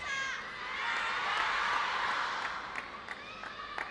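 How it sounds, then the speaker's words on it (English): A lively crowd murmurs and cheers in an indoor hall at a women's table tennis World Cup group match in Macao, a broad steady swell that rises mid-clip, with a few sharp claps or ball sounds near the end. "There is a lively crowd in the room."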